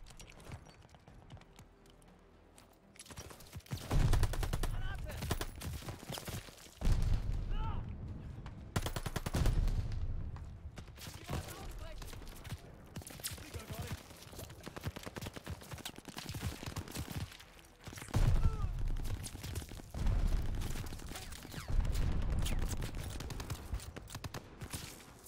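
Call of Duty: Vanguard battle at El Alamein, with loud bursts of machine-gun and rifle fire and heavy booms coming in waves, and brief voices under the fighting.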